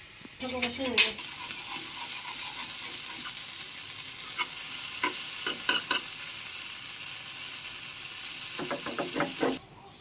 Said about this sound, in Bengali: এবার একে একে বড়াগুলো ভেজে নেব।